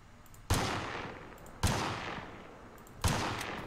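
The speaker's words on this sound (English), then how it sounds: "I just heard gunshots." Three loud, sharp gunshots in a video game, spaced about a second apart, each with a trailing decay, standing alone against a quiet background.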